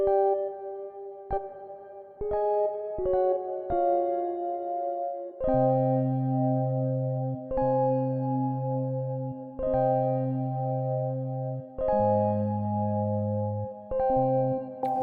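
Vintage synth key sounds play sustained chords with heavy reverb, each chord changing every couple of seconds and ringing out smoothly, with no voices.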